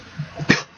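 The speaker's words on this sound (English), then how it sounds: "Fucking cough." A single sharp cough bursts out mid-clip, short and fairly close, with faint low murmurs and soft noises around it.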